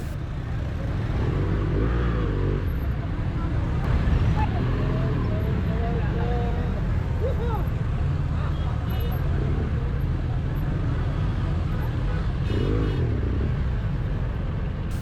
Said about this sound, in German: der Verkehr wird dichter